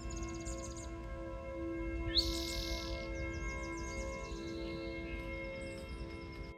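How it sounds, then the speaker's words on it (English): Several small birds chirp and twitter at a moderate distance over a steady humming background, calls coming in short bursts throughout. "I can hear a lot of birds chirping in these bushes near here"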